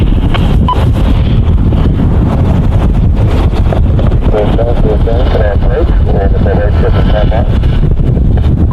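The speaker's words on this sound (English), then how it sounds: "Quite a heavy wind this afternoon" Heavy afternoon wind buffets an outdoor safari microphone with a loud, constant rumble that fills the whole clip, and a faint voice is barely audible beneath it.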